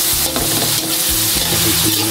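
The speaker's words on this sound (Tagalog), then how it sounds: "Halo lang po tayo ng halo." Ground pork or beef sauce for Filipino palabok is stirred in a sizzling pan, a steady close frying hiss broken by repeated scraping strokes of the spoon, with no talking.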